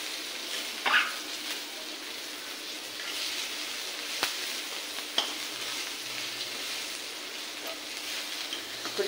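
Spices tempering in hot oil, a quiet steady sizzle and crackle like light rain, with a few sharp pops and clinks scattered through.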